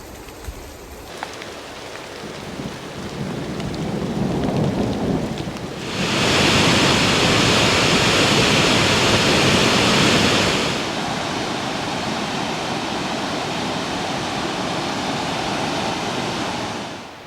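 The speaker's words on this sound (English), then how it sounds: "huddled under a tree, waiting out this pretty gnarly thunderstorm" Heavy thunderstorm rain pours down continuously in Bechler Canyon, Yellowstone National Park, a dense broadband roar that swells louder for several seconds in the middle before easing back to a steady downpour.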